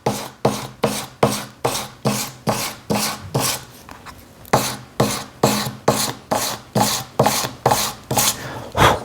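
A Dremel rotary tool works coarse grit over half of a small piece, making a steady series of rhythmic rasping strokes, roughly two per second, close and clear with no talking.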